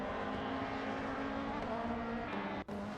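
A BTCC touring car racing at Snetterton, a steady loud engine drone with a sustained tonal whine holding throughout, one brief dropout near the end, no talk.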